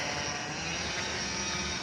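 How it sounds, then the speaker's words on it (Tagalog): A grass cutter or lawn mower running nearby in a hilly area, a continuous droning motor hum at steady moderate loudness with no speech. "At may dito ng maingay. May nagpuputol ng grass."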